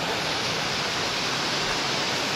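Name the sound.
heavy rain falling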